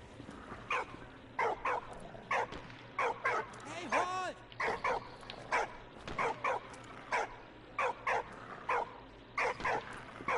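A dog barks repeatedly in the World War I game Valiant Hearts: The Great War, sharp close yips in a steady rhythm with a brief whimpering whine partway through, over quiet background game sound.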